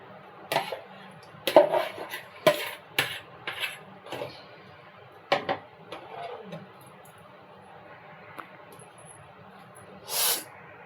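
Sago stirred into milk in a cooking pot, giving scattered scraping and clinking knocks at an uneven pace, some loud and close, with quiet gaps between them and no talking.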